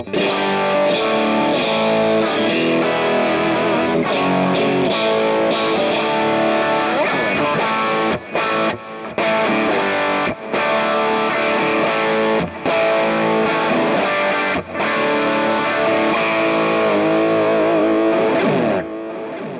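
An electric guitar plays through a Kemper profile of a Dr. Z Maz 18 non-reverb amp, heavily distorted and sustained, with strummed chords and riffs, loud and continuous with a few brief gaps.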